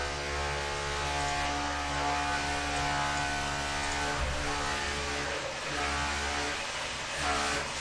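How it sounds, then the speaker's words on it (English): A Dyson vacuum cleaner motor drones steadily and loudly from start to finish, a constant whine over a low humming rumble, with no voices. "those Dyson vacuum cleaners, they've got the suction but they're a bit loud, aren't they?"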